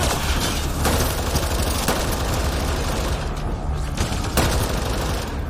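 Sustained automatic gunfire from a weapon in the video game Mass Effect during a firefight, loud and continuous with rapid overlapping shots and occasional heavier booms.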